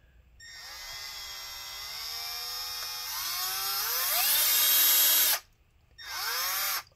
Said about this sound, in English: we're going to try and drill this out